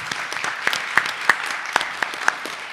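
Applause for Robbie Compton at a school district board meeting: a modest room of people clapping, sparse, distinct hand claps with a few sharper ones standing out, fairly near and without talk.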